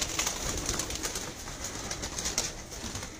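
Pigeons coo softly amid a steady hiss of background noise, with faint, frequent bird calls and no talking, among specially bred pigeons being handled and shown.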